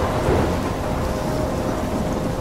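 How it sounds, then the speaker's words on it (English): Thunderstorm in the video game Life is Strange, a dense, steady roar of heavy rain with deep rumbling underneath, loud and continuous with no talk. "I'm trapped in a storm?"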